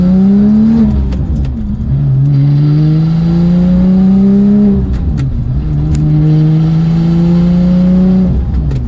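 A manual 992-generation Porsche 911 GT2 accelerates hard through repeated gear pulls, the engine note climbing steadily, dropping at each shift and climbing again, loud and close with no talking.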